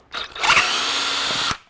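A power drill backs out screws from a taxidermy kit panel, a single loud whirring burst of about a second that rises, holds steadily, then cuts off, heard close and alone.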